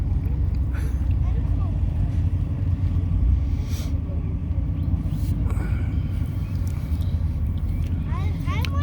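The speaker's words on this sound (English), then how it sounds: "Apparently some exhaust work done." A Corvette with a modified exhaust rumbles deep and steady as it rolls along in a Veterans Day parade in Sierra Vista, a loud, close, continuous low drone with faint background voices.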